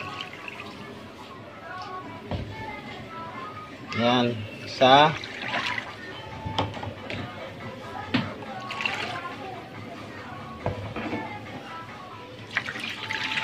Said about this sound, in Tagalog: maglalagay muna tayo ng tubig